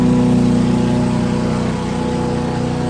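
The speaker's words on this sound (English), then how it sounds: "currently riding away on the lawnmower to try and give us some kind of audio quality" Ride-on lawnmower engine running with a steady, loud, close drone, even and continuous with no voices over it.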